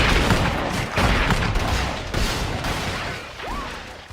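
A shootout gunshot effect: several heavy, echoing shots and booms in quick succession, loud and close, then a rising whistle-like tone near the end.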